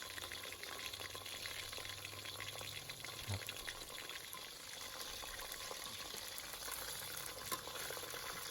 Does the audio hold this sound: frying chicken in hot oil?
yes